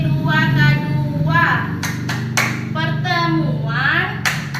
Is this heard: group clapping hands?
yes